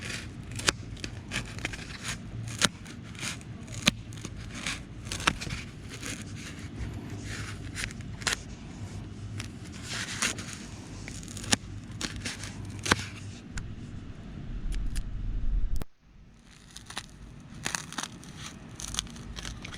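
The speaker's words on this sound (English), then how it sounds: "There was something so satisfying about cutting these Pool-Noodles with the scissors." Scissors snip repeatedly through pool noodles, sharp close clips at irregular intervals over soft crunching and rustling foam, with a louder scraping cut near the end followed by quieter handling.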